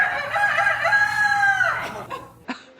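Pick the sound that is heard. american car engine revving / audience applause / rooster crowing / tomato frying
rooster crowing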